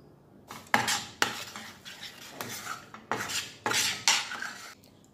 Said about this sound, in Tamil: நல்லா இது கெட்டியாகிற வரைக்கும் நான் இதை வந்து கிளறி விட போகிறேன்